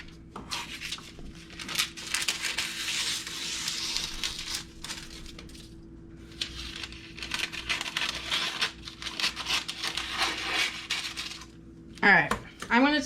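A knife scrapes and saws through bread dough on a work surface, giving rough rubbing and scraping strokes in irregular bursts with short pauses, close by, ending in a sharper clatter.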